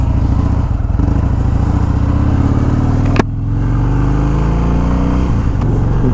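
A 2015 Harley-Davidson Dyna Low Rider motorcycle runs loud and close, its engine giving a steady, heavy low rumble with a brief dip in tone partway through, and no voices over it.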